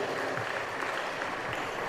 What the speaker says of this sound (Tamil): கைத்தட்டி எல்லாரும் பிரைஸ் தி லார்ட்